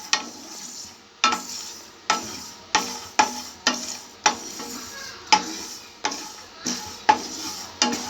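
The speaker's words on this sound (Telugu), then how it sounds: "చూడండి చిట్టుపట్టు అంటున్నాయి" Sesame seeds roasting in a pan crackle and hiss while a spoon scrapes through them in regular strokes, about every half second or so. The sound is close and fairly loud, with no voices.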